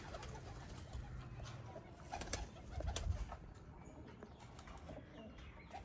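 Red-eyed breeder pigeons coo softly at close range, a low murmuring burble that sits under steady background noise with no voices.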